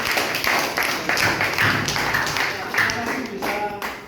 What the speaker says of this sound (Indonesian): kita berikan aplaus buat kelompok 1